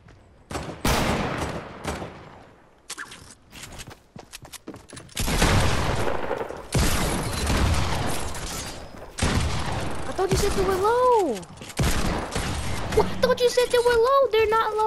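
Sniper rifle fire in Fortnite, sharp gunshot bursts and clattering game effects spread across the clip, with dense busy stretches and short gaps, plus in-game tonal sound effects near the end.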